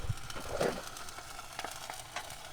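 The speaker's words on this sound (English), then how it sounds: "Something's sizzling." A burned car, a Subaru STI, sizzles after catching fire, giving faint crackling and hissing with scattered pops and small bursts, close and low in level.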